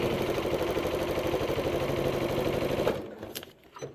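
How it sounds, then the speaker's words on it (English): A sewing machine runs steadily with a rapid, even mechanical stitching rhythm, close by, then stops abruptly near the end. "then I can slide it over to my sewing machine and stitch away"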